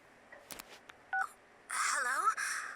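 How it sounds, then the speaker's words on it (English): Electronic phone ring from the video game Persona 4 Golden: a few short synthetic beeps and tones, then a bright warbling ringtone that sounds in two close bursts, fairly quiet and clean. "Your phone is ringing."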